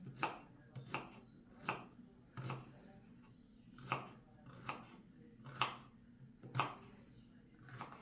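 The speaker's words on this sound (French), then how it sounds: "Donc, on coupe comme ça, tout simplement." A small serrated Pradel knife cuts vegetables for a fresh salad, making eight or nine evenly spaced crisp chops against a board. The cuts are close and fairly quiet.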